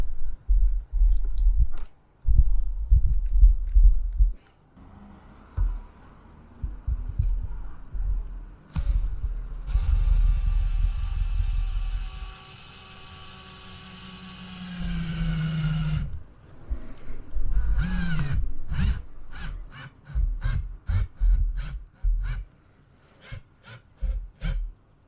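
Screws driven through sticky mastic into a Maxxfan Deluxe roof fan frame on a camper van, with bursts of cordless driver whirring alternating with scraping, clicks and ratcheting handling noises, close and moderately loud.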